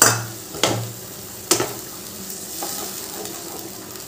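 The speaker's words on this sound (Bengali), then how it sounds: "আদা, কাঁচা লঙ্কার যে পেস্ট বানিয়ে রেখেছিলাম সেই পেস্টটা দিয়ে দিলাম। এবার মশলাটা ভালো করে কষিয়ে নেব তেলের সাথে।" Ginger and green chilli paste frying in oil for a cabbage curry, a soft steady sizzle with a few sharp clinks of a stirring utensil against the pan.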